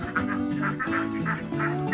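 Laying ducks on a duck farm, a flock of about 220 birds in their second laying period, quack in a steady, repeated chorus of nasal calls, close and fairly loud.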